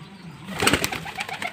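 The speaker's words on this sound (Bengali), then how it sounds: "আমার যে পায়রাটার পক্স হয়েছে সেটা আপনাদেরকে দেখাই আগে" A pigeon sick with pox, its eye swollen shut, gives a single brief soft coo at close range, lasting about a second against quiet background noise.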